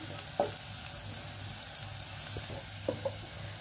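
Onions sautéing in a pan over a low flame for egg bhurji, a steady soft sizzle with a few light scraping stirs and clinks on top, close up and without talk.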